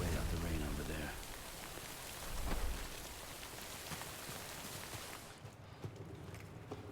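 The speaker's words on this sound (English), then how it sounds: "Wait out the rain over there." Steady rain in the video game Death Stranding, a dense hiss of falling water that carries on throughout, with a brief deeper swell partway and a softer, duller wash near the end.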